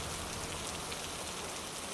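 Rain and flowing water make a quiet, even, continuous hiss, alone with no voices.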